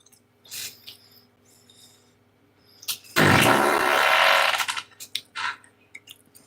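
A loud, drawn-out fart of a little over a second rips out close by, between quieter rustling and clicks.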